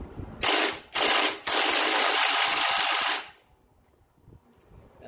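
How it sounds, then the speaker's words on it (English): A breaker bar loosens the rear shock bolt on a Harley-Davidson Softail Fat Bob, giving three loud, close bursts of harsh mechanical grinding and ratcheting, the last one longer, followed by faint clicks and handling noises. "Had to use a breaker bar on this one too."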